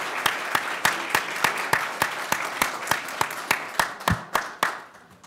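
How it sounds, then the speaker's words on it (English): Applause at a university business prize competition as a bridal fashion contestant walks out, heard as sparse, distinct claps at an irregular pace, a few hands close by, trailing off at the end with no talk. "Let's give a round of applause for Karima and her prop"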